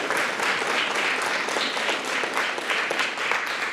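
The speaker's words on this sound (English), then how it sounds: "Give them a round of applause." An audience at a high school honor society induction ceremony gives a sustained round of applause, dense and even throughout, with a few voices faintly underneath.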